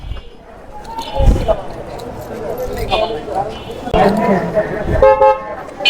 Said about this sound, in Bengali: শুনেন কেমন হর্ন